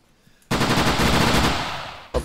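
A burst of ARMA 3 gunfire rattles out as sustained rapid automatic fire for about a second and a half. It is loud and close after a quiet start, fades slightly, then one more shot cracks at the end.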